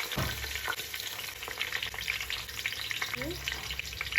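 Chopped onions frying in hot oil with bay leaf, cloves and cardamom for an Assamese mutton curry, a steady loud sizzle with crackling pops and occasional stirring scrapes, no voices.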